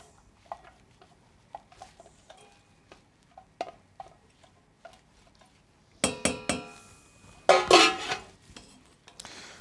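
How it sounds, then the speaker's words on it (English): Sliced mushrooms and chopped onions land in melted butter in a pan: sparse light clinks and taps first, then a burst of louder clattering and tumbling as the pieces drop in. "I'm going to go ahead and add in my sliced mushrooms, my chopped onions"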